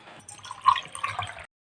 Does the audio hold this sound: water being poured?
yes